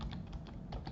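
Someone types on a computer keyboard with quick, soft, irregular keystrokes over a low background hum.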